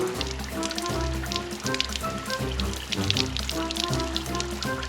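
A shower runs steadily at a naturist club in London, a continuous close hiss and patter of falling water with a low rumble underneath, and no voices.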